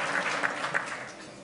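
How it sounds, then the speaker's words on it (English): Audience applause at a St Patrick's lunch in New York, a short, moderately loud burst of clapping from a room of people that holds steady through the moment without fading out. "I think if we give him applause, maybe he'll do it again."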